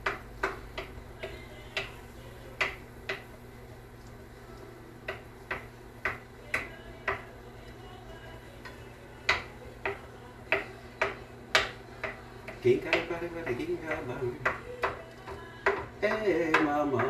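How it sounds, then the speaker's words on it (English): A spoon taps and chops tomatoes in a home kitchen for Huevos Rancheros, giving a steady series of sharp, evenly spaced clicks. A low background hum sits under them, and faint music and shuffling join toward the end. "let's go ahead and chop down these tomatoes a little bit with my spoon"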